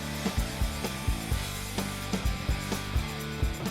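Rhythmic back-and-forth strokes of a hand saw cut through pressure-treated wood, each rasping pass evenly spaced and close up.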